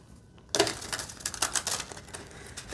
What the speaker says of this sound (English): I'm going to go ahead and shuffle this again